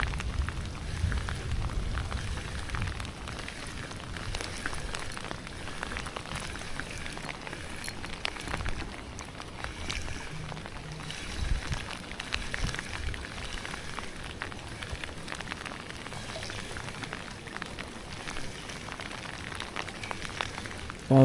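Steady rain falls on an outdoor lure-fishing spot, a constant dense patter of drops hitting surfaces that continues evenly throughout with no voices.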